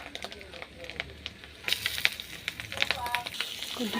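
Potatoes dropped into a hot pan with pasta, sizzling and crackling softly at close range, with the frying getting louder partway through.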